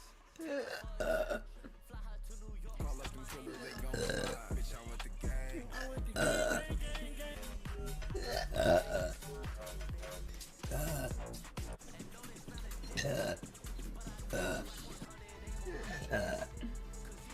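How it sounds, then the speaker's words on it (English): A woman burps repeatedly in loud, close belches of varying length over several seconds, with short vocal sounds in between. "I'm burping so much."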